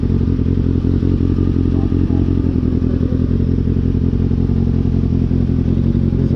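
A Kawasaki ZX6R sport motorcycle engine drones loud and steady, a dense low rumble with rattling and clatter that holds constant without rising revs.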